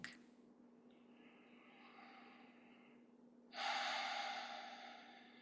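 Slow, deliberate breathing during a guided breathwork relaxation exercise: a soft, quiet breath early on, then a fuller, louder breath near the end, close and with no talking.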